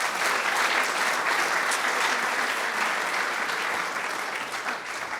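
A lecture audience applauds with sustained, dense clapping that holds steady and then thins slightly toward the end. It sounds moderately loud and close, with no speech over it.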